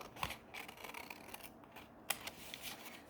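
Scissors cut through a page of an airplane children's book being altered into a junk journal, giving quiet, close snips and paper rustles.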